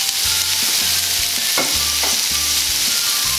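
Vegetables stir-fried in a pan for a Chinese-style orange chicken dish, with a steady close sizzle and repeated scraping stirs and clanks of the utensil throughout, no voices.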